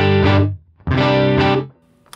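Two loud, distorted electric guitar chords ring out through a Line 6 POD Go with early reflections turned all the way up, each sustaining briefly before fading with a short roomy tail.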